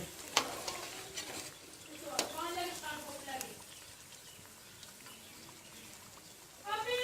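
Gram flour pakoras fry in oil with a soft, low sizzle, punctuated by a few clinks and stirring scrapes and a louder burst at the end, as a person speaks over the frying.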